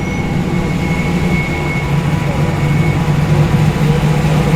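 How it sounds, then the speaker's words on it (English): A car with a big engine and big cam rolls in at a tough street car meet in Wetherill Park, a steady loud low rumble that holds throughout with no pauses. "GDR rolling in with a big engine, big cam"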